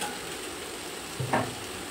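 Vegetables stir-fried in a pan with salt for a paneer chow mein, a faint steady sizzle close by with a brief scrape of stirring near the end.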